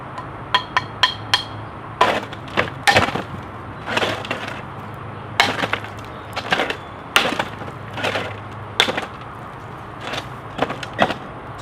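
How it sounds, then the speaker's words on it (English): Repeated sharp hammer strikes ring out in irregular bursts, some in quick pairs, each with a hard cracking crunch as a ZT 0180 knife breaks apart. "Give it some more hammer blows."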